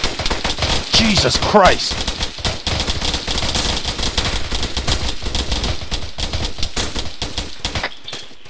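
Sustained automatic gunfire in the military shooter ARMA 3, rapid rattling bursts and single cracks from several weapons, loud and close throughout, with someone shouting briefly partway through.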